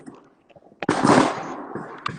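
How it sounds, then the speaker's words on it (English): Fireworks go off with a single sharp, loud bang, followed by a crackling, rumbling tail that fades over about a second. A few faint knocks come before it and a small pop follows. "Is that fireworks?"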